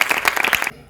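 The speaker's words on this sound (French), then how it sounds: "Je voudrais que vous vous applaudissiez vous-même." Audience applause at a children's charity event in Djibouti, a dense burst of many clapping hands lasting under a second before cutting off abruptly.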